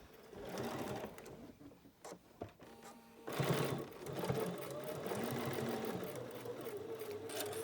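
Sewing machine stitching down the edge of the binding on a homemade fabric face mask, running in short bursts with brief pauses before settling into a steady, close whirring run.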